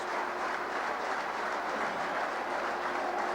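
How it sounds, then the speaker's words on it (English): Sustained applause from a very large crowd at the National Stadium in Karachi after a batsman reaches his century in a cricket match, a dense, even roar of clapping throughout. "There's the applause from this very large crowd at the National Stadium."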